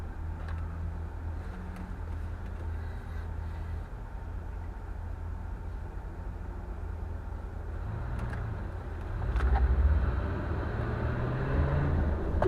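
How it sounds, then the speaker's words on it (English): A truck beside a car at a turning lane idles with a low rumble, then its engine swells into a deeper rev near the end, heard from inside a driving car amid road noise. "The truck next to me is revving his engine."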